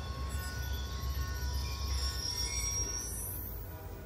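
Train rolling along the tracks in Call of Duty: Black Ops II, a steady rumbling clatter with high metallic wheel squeal and a rising whine near the end, loud and continuous with no talk.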